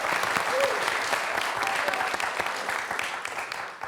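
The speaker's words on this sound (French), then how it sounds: "Ça s'applaudit." Studio audience at a television quiz show breaks into brisk, close applause, a dense burst of clapping that holds steady before tapering slightly at the end.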